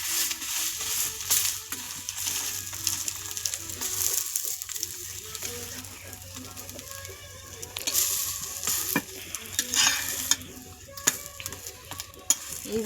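Egg paratha sizzles and fries in a kadai, the crackle steady and fairly quiet, broken by scraping and stirring of a utensil against the pan and a few sharp clinks.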